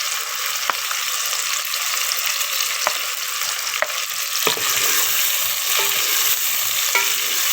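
Green chillies sizzle steadily in a pan of frying okra and onion, a loud continuous crackle with occasional sharp pops and stirring scrapes.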